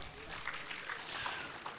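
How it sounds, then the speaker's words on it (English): Audience at a book launch giving a round of applause, a faint, distant wash of steady clapping with a few sharper claps, no voices over it. "There's another round of applause for our Baba."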